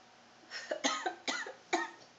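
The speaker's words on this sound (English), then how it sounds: "I'm coughing." A person coughs several times indoors, in short close bursts of four or five harsh coughs spaced unevenly, with no talk.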